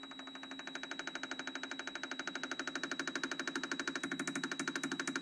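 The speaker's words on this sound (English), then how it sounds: "So at about 20, the injector changes sound." A Holley Terminator fuel injector firing on an Autool CT-160 tester at reduced fuel pressure, giving a fast, even train of sharp mechanical clicks over a steady hum, close and moderately loud, with no voices.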